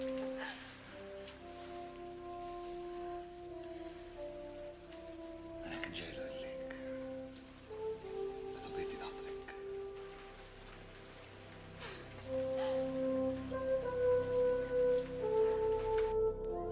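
Steady rain falls on surfaces throughout a TV drama scene, a continuous wash of patter under music and speaking voices, growing louder toward the end.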